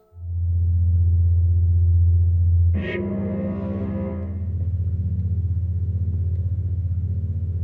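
An electric Porsche hypercar in a racing video game gives a loud, steady low electric drone that shifts abruptly into a brighter rising whine with synthetic tonal layers, then settles back into a sustained hum.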